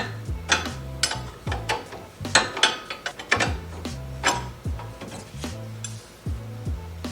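A ratchet working a 19 mm castle nut off a 3rd-gen Toyota Tacoma spindle, with quiet, close bursts of clicking and metallic ratcheting in uneven strokes and short pauses.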